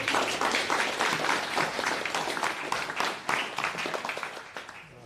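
Audience applause fills a room at a live panel discussion on AI, steady dense clapping for about five seconds that thins slightly toward the end.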